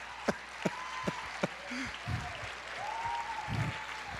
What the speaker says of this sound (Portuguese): Aplauda ao Senhor, é isso que Deus quer.